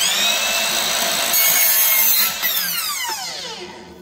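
A saw trims a piece of cove molding in a loud, close, continuous rasping cut whose pitch shifts as the stroke goes on, then fades near the end, with no voice.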